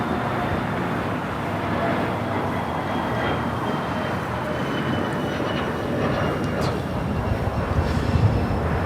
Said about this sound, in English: That is a Ventura Bombardier Challenger 604 heading to Santa Fe, New Mexico